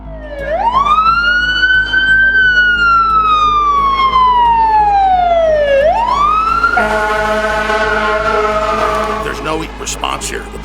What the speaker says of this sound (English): The police just flash their sirens and roll through quickly.